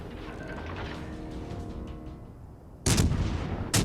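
Naval gunfire in World of Warships Legends: a rumbling battle backdrop, then two sharp, loud gun blasts about a second apart, the first heavier and longer than the second.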